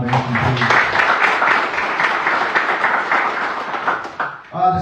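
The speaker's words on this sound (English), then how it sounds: "So a round of applause for the Cole Foundation, please." At an event announcing an NHRA drag racing national held at a speedway, an audience gives a round of applause, a steady burst of clapping that tapers off before a voice speaks again.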